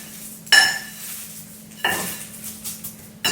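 Raw chicken breasts clatter onto a metal baking sheet, producing three sharp clinks of metal pan contact spaced about a second apart in a quiet kitchen, with a low steady hum underneath and no talking.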